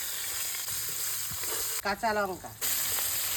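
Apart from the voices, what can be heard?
cauliflower frying in oil with cumin and ginger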